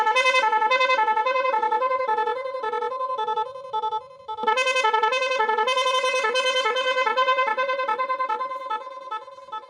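A power tiller's electric horn plays a loud, near, melodic multi-tone tune that repeats, breaks off briefly midway, then resumes.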